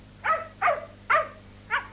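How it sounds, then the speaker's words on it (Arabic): Dog barking in four sharp, evenly spaced barks, close and clear with no talk over them. "هذا هو الكلب الذي أخبرني عنه ابن حبيب"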